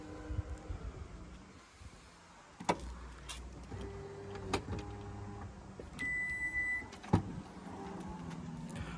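A hybrid crossover's powered tailgate moves with a low motor whir, a few clicks and a latching thunk, plus a brief electronic beep, close by.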